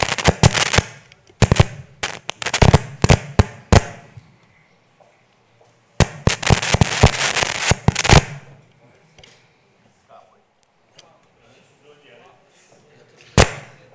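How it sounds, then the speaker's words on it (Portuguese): Fireworks are set off outside during a municipal council session, heard as bursts of rapid cracking bangs in clusters, loud and sharp with quiet gaps between volleys. "Isso é fogos, está tudo programado."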